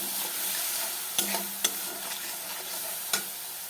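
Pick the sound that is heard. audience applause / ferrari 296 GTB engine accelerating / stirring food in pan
stirring food in pan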